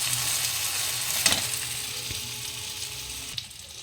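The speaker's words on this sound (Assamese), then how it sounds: "এতিয়া মই 3 মিনিটমান ফ্ৰাই কৰিম।" Chicken frying in a pan with a steady close sizzle and crackle, while a utensil stirs and scrapes occasionally, with no voice.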